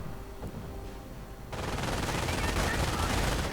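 Automatic fire from a Browning Automatic Rifle in a World War II combat video game, a quiet lull giving way to a sudden, sustained, loud rattling burst that fills the rest of the moment.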